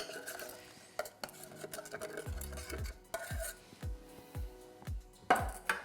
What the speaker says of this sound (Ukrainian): Тепер я додаю сюди заварне тісто і все це ще раз перемішую.